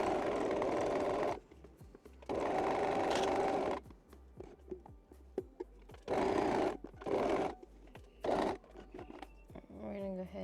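A sewing machine stitches a side slash pocket on linen pants in several close bursts of rapid whirring, separated by pauses filled with handling of fabric and small clicks, with a faint voice at times.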